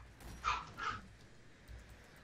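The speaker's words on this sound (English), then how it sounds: "Woof woof woof, who's barking?" Dog barking in the game Left 4 Dead 2, two short, fairly faint yips close together near the start, followed by quiet background.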